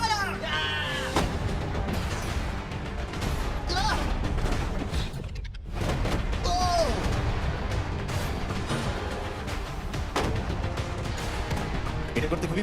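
Missiles hammer a shipping container in a dense, sustained barrage of booming impacts and blasts, loud and continuous with a brief lull partway through, while voices talk over the din.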